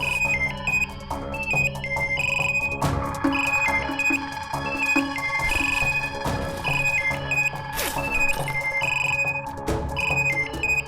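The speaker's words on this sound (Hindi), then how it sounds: "कहीं बेल बज रही होगी, देखो जरा" A mobile phone ringtone plays a repeating electronic melody, fairly loud and continuous, with a few bumps and rustles in the background.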